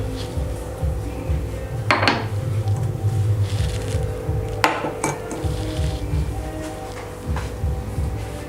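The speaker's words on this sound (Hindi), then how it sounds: "अब हम इसको छानेंगे ताकि हमारी ग्रेवी स्मूथ हो जाए।" Blended tomato paste pushed through a metal sieve for shahi paneer gravy, steady scraping and clinking of spoon against mesh and bowl with a few sharper knocks, close and moderately loud.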